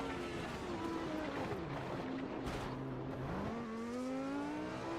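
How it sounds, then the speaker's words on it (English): Classic Formula 1 race car engines screaming around a wet Spa circuit in a racing game, a continuous loud high-pitched whine that shifts pitch through downshifts and upshifts as the cars brake and accelerate. "These cars sound so good"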